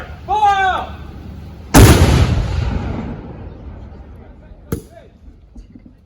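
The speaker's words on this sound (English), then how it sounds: "Take care of battery fire from left to right." Historic cannon fired at a Yorktown artillery demonstration: one loud close blast with a long rumbling tail, then a second sharper report, with shouted commands and voices before and between.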